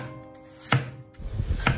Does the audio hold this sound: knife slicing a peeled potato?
yes